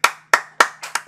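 Five sharp, close handclaps come in a quick, slightly uneven rhythm during a live travel-news broadcast, each snapping out cleanly against near silence.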